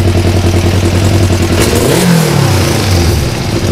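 A 1996 Kawasaki ER5 motorcycle engine runs loud and close during carburettor synchronisation, holding a steady throbbing idle before a short throttle blip rises and falls in pitch, then settling back.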